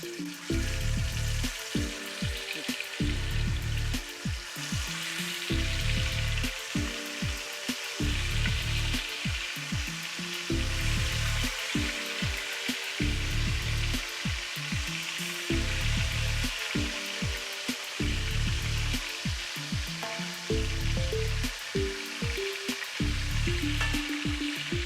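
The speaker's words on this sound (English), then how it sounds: "I'm gonna go in with my oxtail" Oxtail pieces sear in a wide pot for Jamaican oxtail and beans, giving a loud, steady sizzle with rhythmic pulses of stirring throughout, close and continuous with no talking.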